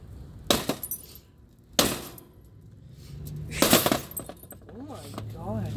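Thick glass from a new green oven is struck and smashed, with several sharp cracking bursts followed by tinkling, clinking shards; people talk and react between the impacts.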